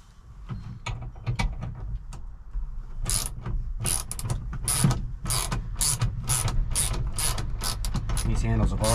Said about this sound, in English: Got our ratchet set up here.